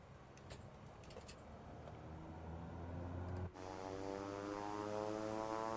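Beechcraft King Air C90 twin propeller engines in Microsoft Flight Simulator 2024: a steady, fairly quiet turboprop drone that abruptly brightens into a fuller, harmonic engine roar partway through, with no talking.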